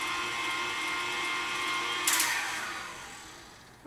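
Electric hand mixer whirring steadily on a slow setting through Irish Cream brownie batter made with Bailey's, a continuous close motor drone with a brief brighter surge partway through.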